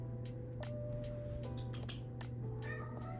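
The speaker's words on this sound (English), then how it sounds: "This is my cat." A house cat meows several times in short, rising calls over a steady low hum, fairly close and alone with no talk.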